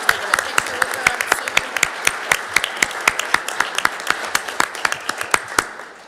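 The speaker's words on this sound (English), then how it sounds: "Everybody give a round of applause to Cameron Kellogg" A school governing board meeting audience gives a round of applause for seventh grade student Cameron Kellogg, a sparse crowd whose distinct, evenly spaced claps ring out close and clear, slowing slightly before fading.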